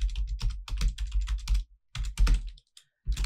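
Computer keyboard typing up close, bursts of rapid distinct key clicks broken by a couple of brief pauses, loud and clear with no voices.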